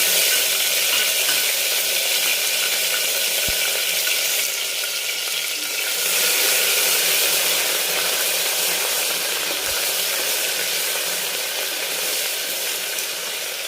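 Ginger, garlic, coriander and green chilli paste sautéing in a pan, a steady, dense sizzle hissing without pause, close and fairly loud, with a couple of faint knocks and no talking.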